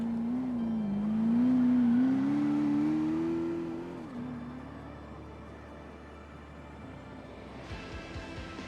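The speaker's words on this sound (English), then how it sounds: "The live view here. The BMW machine of Squid." BMW race car engine in a San Palezzo round, a strong rising tone that climbs and holds, then eases off and fades to a lower drone, with a faint burst near the end.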